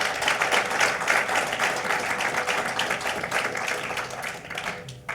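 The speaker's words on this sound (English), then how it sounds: "I think we must give them a round of applause." Conference attendees give a round of applause at a law enforcement technology event, a moderate, somewhat distant patter of many hands clapping that gradually thins toward the end.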